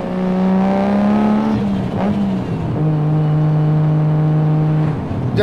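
A Nissan Skyline GT-R's RB26 engine drones loudly from inside the car, holding a steady tone, briefly shifting and dipping, then settling into a lower cruising note, with no voices.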